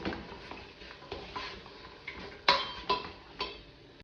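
A spoon scrapes and knocks around a pot of chickpeas in tomato sauce, with light irregular clinks and taps, close and fairly quiet.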